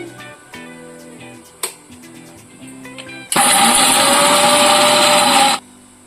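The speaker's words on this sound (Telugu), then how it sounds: "ఇలా వేయించి పెట్టుకున్న వాటిని మిక్సీ వేసుకుందామండి" After faint background music, a mixer grinder roars loudly for about two seconds grinding roasted ingredients into powder, then cuts off abruptly.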